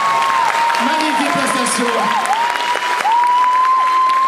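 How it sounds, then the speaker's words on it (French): An audience at a Japan Expo Sud cosplay show applauds an Isaac Clarke costume from Dead Space 2, steady clapping running under a sustained musical tone while an announcer speaks in French. "Et on l'applaudit très fort."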